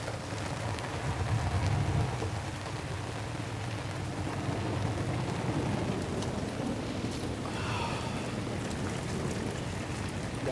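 Rain falls steadily over a basin during crawfishing by boat, a dense even hiss throughout, with a low rumble of thunder rolling in briefly early on.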